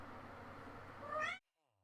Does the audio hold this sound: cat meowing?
yes